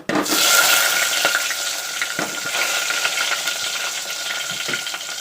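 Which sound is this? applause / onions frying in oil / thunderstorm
onions frying in oil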